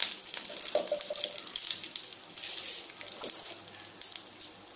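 Mustard seeds and broken dried chillies hit hot oil and sizzle steadily, with crisp crackling and small pops close by for nearly five seconds.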